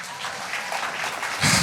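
Brief audience applause, a soft wash of many hands clapping at a distance, swelling louder in the final moment.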